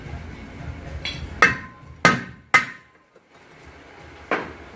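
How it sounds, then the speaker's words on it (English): Hammer blows on a Nissan Altima rear brake rotor: four sharp metallic clanks, three spaced closely in the middle and a lighter one near the end, close and loud against a quiet garage background. "hit the rotor with a hammer"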